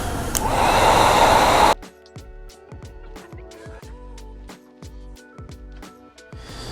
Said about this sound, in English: So we're going to need our heat gun and just apply heat throughout the entire panel